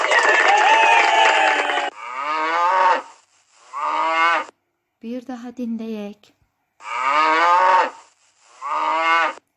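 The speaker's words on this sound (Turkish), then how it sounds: "İneydi." Several loud, drawn-out cow moos, close by, played twice with a brief voice speaking between them.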